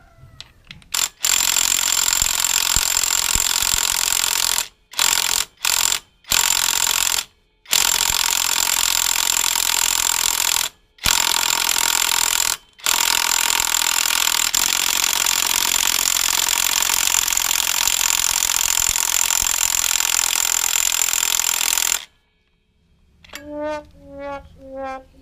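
A Reaim impact wrench hammers at a very tight nut, loud sustained rattling bursts broken by several short pauses, running for about twenty seconds before stopping, with a few faint tonal beeps at the end.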